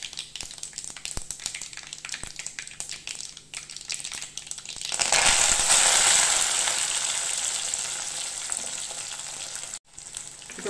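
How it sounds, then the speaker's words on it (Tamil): Onion, garlic and curry leaves are dropped into oil where mustard, cumin and fenugreek seeds have popped: a soft crackle swells into a loud, rushing sizzle that slowly eases off. "இப்போ பூண்டும் வெங்காயமும் நல்லா வதங்கட்டும்."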